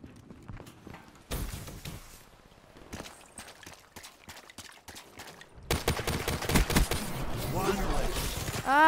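Gunfire from a weapon in the shooter game Black Ops 3 comes in rapid bursts of sharp, clattering shots, sparse at first and then a dense sustained volley, with game sounds around it.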